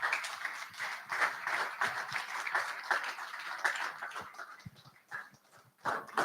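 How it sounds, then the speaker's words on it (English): An audience applauds after a presentation, steady scattered clapping at moderate distance that swells and dips unevenly, fairly quiet overall. "Please, can we make the applause a bit louder?"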